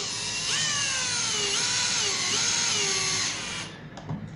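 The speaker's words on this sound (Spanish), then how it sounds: "voy a ir ingresando el tornillo primero suavecito y luego voy a apretar hasta" A power drill whines close up while driving a screw into a pocket-hole joint in wood, starting slow and then speeding up and tightening in rising and falling bursts before cutting off.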